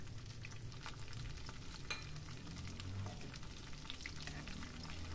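A pan of potato and mustard-green sabzi with cumin, chopped garlic and green chillies sizzles steadily while a spoon stirs and scrapes through it, making soft repeated scraping strokes over a constant quiet frying hiss, close and without talk.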